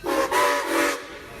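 A locomotive sounds at Old Sacramento while approaching on an outside track, a loud sustained whistle or horn in three swelling blasts, then a quick fade.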